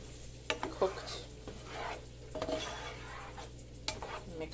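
A utensil stirs peppers in a cooking pan, giving soft scrapes and a few sharper clinks against the metal at an irregular pace, quiet and close, with a faint background hum.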